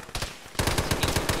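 Automatic gunfire in the video game Arma, a rapid rhythmic burst of machine-gun shots, fainter at first and then louder and sustained, with no talking.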